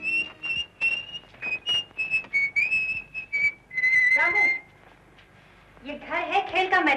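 Someone whistles a clear, lively tune in short repeated phrases, loud and close, with voices joining near the end.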